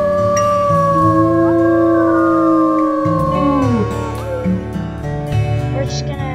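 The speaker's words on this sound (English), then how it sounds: "We're just gonna howl and howl and howl." Several wolves howl together in Wolf Quest 3, long sustained, gliding cries overlapping and bending in pitch, loud and close throughout with no talking over them.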